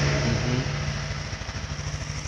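A Yamaha Lexi 125 scooter with a 125 cc engine runs at a steady ride, giving a continuous mid-pitched engine drone that sounds close and is steady in level, with no one speaking.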